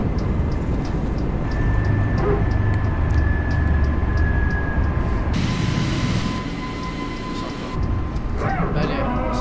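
Airliner engine roar of an A320neo climbing out after takeoff from San Sebastián in Flight Simulator, a steady loud broadband rumble with tonal whine, under pilot callouts spoken in French throughout.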